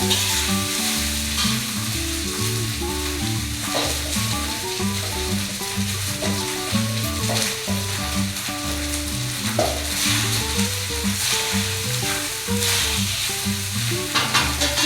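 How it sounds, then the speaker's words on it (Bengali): Balls for moti polau frying in a pan, a continuous loud sizzle with bubbling oil and occasional stirring, with melodic background music playing throughout. "এই বলটা আমি এইভাবে ভেজে"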